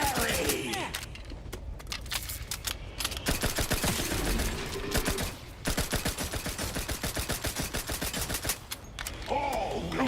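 A companion in The Outer Worlds 2 keeps up continuous rapid gunfire, firing wildly with her gun held above her head. The dense, steady rattle is close and loud, with brief pauses and occasional mechanical clatter.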